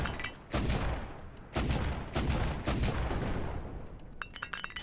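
Cannon fire from an airship in the video game Black Skylands booms in three loud, heavy blasts about a second apart, each trailing off into a rumbling tail.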